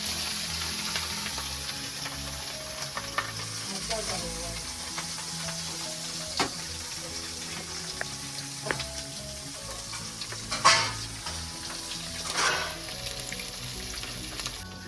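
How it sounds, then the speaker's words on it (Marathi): Fish fries in hot oil with a steady, soft sizzle, broken by scattered crackles and a few louder spattering pops, with no voices. "तो मस्तपैकी तेल तापत ठेवलेला, त्यावर ठेवला काटेरी फ्राय."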